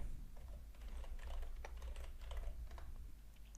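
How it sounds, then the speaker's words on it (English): Rapid, light clicking of fingers typing a new password on a computer keyboard, a quick irregular run of keystrokes heard close and alone over a low background hum. "Now I'm going to put another password."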